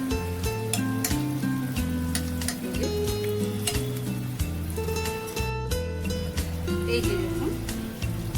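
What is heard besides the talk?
malpua batter frying in hot oil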